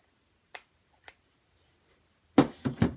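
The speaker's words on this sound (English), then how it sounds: "Some big scissors here, just trim that little frayed area off." Large scissors snip frayed edges off handmade wooden Christmas packages: two faint crisp clicks, then a louder pair of quick cuts, close up and alone.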